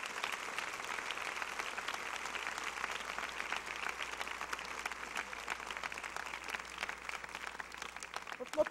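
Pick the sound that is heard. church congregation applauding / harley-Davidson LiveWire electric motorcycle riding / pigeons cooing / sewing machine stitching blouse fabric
church congregation applauding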